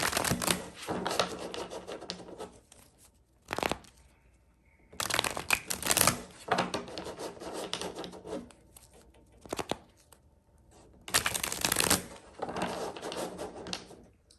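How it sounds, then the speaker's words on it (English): Tarot cards are shuffled in several quick riffling bursts separated by short pauses, close and crisp, with no talking. "we'll shuffle through, get some identifiers, get an oracle"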